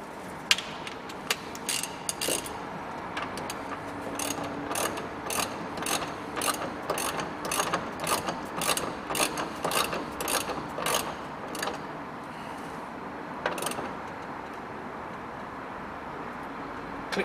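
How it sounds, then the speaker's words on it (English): A ratchet clicks in rapid, even runs while tightening the steering wheel nut on a Nissan Note, close and crisp, pausing briefly before a few last clicks. "Click, click. Tighten your factory spec."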